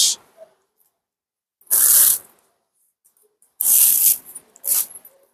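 A Bishnupuri silk saree hand-painted with a Jamini Roy design is unfolded in three bursts of crisp rustling and crinkling, loud and close, separated by silence.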